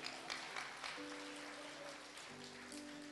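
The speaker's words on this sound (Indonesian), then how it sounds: "Kasih tepuk tangan buat Herodes." A church audience applauding after a drama performance, soft continuous clapping heard at a distance, with faint sustained musical tones underneath and no speech.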